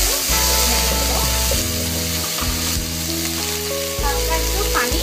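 Onion, garlic and ginger paste frying in hot oil for a whole pigeon roast, a steady close sizzle with a tonal, music-like layer running underneath throughout.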